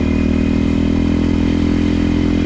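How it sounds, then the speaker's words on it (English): Kawasaki KLX 230 dirt bike with a loud aftermarket exhaust, idling close by with a steady, throbbing, even rumble and no revving, heard alone. "The exhaust saved a ton of weight, but the new one I put on is so loud."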